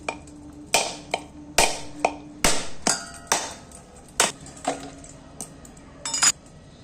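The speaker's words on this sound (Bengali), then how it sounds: "এবার নারকেলটাকে ফাটিয়ে নিচ্ছি।" Sharp, hard knocks as a coconut is cracked open in a home kitchen while making palm-fruit fritters: about ten to twelve separate strikes at an uneven pace, close and clear, with no talking.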